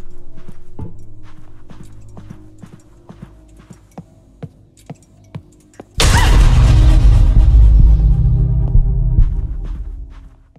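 Slow, thudding heartbeat pulses from the horror game Close to the Sun, a steady rhythmic throb that gives way to a loud, sustained booming rumble.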